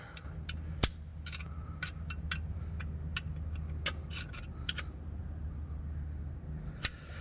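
A coil spring on the rear drum brakes of a 2007–2014 Chevy Silverado is spun, giving scattered sharp metallic clicks and ticks. They sound faint and irregular over a low steady hum.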